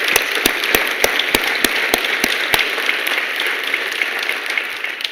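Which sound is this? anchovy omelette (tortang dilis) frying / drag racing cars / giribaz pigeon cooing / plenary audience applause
plenary audience applause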